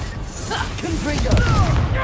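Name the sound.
Confringo spell blast from video game Hogwarts Legacy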